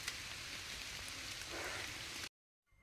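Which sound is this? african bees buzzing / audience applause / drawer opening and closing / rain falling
rain falling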